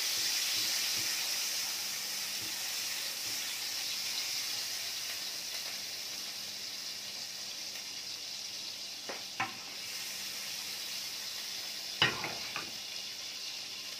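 Ghee or other cooking fat melting in a pan sizzles steadily with a broad, even hiss, joined by a couple of faint clinks and a sharper knock near the end.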